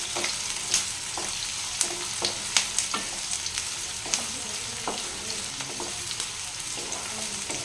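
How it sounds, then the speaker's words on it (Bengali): Onions frying in a pan, a steady close sizzle broken by repeated sharp scrapes and clacks of a spatula stirring against the pan. "এটা ভালোভাবে লাল করে ভেজে নিতে হবে পেঁয়াজটা"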